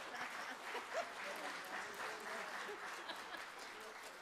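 Church congregation clapping for the choir during a Baptist Sunday morning service, a faint, steady wash of many hands throughout with some voices mixed in.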